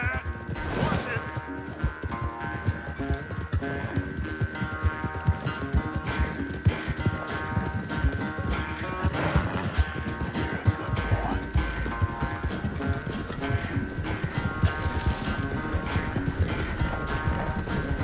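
Horse hooves gallop in a steady, rapid clip-clop in Red Dead Redemption 2, running the whole way through under game music, with characters talking over the hoofbeats.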